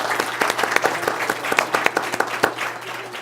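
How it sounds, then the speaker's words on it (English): Audience applause at a university Q&A event, close and lively with distinct sharp claps standing out from a steady patter over about three seconds. "So let's give a round of applause."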